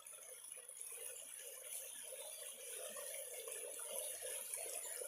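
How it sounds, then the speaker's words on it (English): Water in a creek flowing over rocks, a steady, soft, continuous babble heard close up with no voices. "we're going to be enjoying the creek for Suzanne today."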